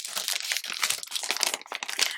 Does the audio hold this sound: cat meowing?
no